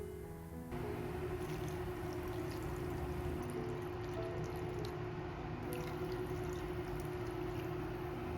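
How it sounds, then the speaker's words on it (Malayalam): Two cups of water poured into a cooking pot while making a ragi soup give a continuous, even gush of liquid, close and moderately loud, with no talk. "ഇനി വേവാൻ ആവശ്യമായ 2 കപ്പ് വെള്ളം കൂടെ ഒഴിച്ചു കൊടുക്കാം."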